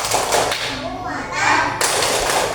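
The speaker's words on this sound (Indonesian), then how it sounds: "Kita mau tepuk semangat dulu sebelum kita pulang" A school class doing rhythmic spirit clapping together, loud patterned claps and thumps mixed with children's voices and chanting, in short bursts and fast runs.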